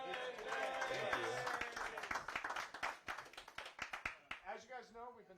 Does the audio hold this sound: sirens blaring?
no